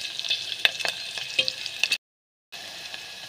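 Onions fry in a pan until brown, a steady bright sizzle broken by scraping stirs and a few sharp crackles, close up, cutting out briefly before resuming.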